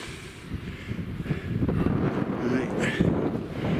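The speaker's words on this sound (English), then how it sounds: "So you've got to be careful of the gusts" Gusty wind buffets the microphone on an exposed fell near Dalehead Tarn in wet, windy weather, a steady loud rumble swelling and falling with each gust, with no voices over it.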